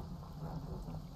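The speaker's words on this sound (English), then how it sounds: "Thunderstorms out here." Stormy weather in the fishing game Dredge: a steady, dense wash of rain with a low rumbling bed of thunder, continuous and even throughout, no voices.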